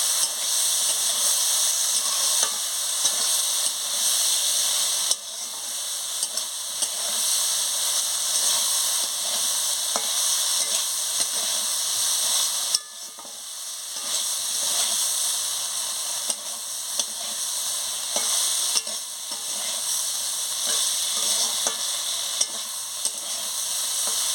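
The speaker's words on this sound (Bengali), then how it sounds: "অল্প করে জল দিয়ে দিচ্ছি, দিয়ে ভালো করে নাড়িয়ে নিচ্ছি" Water is splashed into a hot frying pan holding spice paste for an okra chorchori, setting off a loud, continuous steamy hiss and sizzle. The sizzle dips briefly at two points as it is stirred, and no one speaks.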